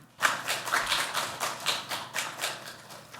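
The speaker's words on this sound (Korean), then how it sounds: "큰 박수로 맞이해 주시기 바랍니다." A seminar audience at the National Assembly gives rhythmic clapping that starts abruptly and continues in regular pulses. It is fairly quiet and sounds like a modest group of hands in a hall.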